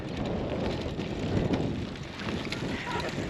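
Strong wind buffets the microphone in a steady roaring rush with gusty swells, loud and close, with no voices heard, out on a mountainside near the Monegros desert.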